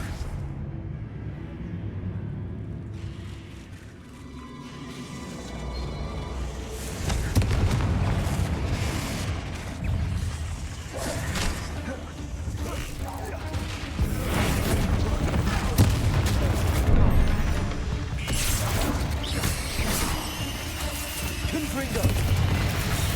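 Confringo blasting spells set off repeated booming explosions in the Hogwarts Legacy video game, a dense rumbling barrage growing louder after a quiet start, mixed with crashes and a voice talking throughout.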